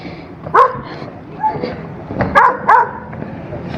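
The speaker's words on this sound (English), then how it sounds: "we have a noisy dog over there who's not too happy" A displeased dog barks from nearby in Creede, Colorado, in several sharp bursts with short pauses between them, over quiet outdoor background noise.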